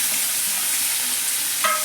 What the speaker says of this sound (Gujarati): અને આ બટેકા પણ આપણે વઘારમાં નાખી દેવાના છે.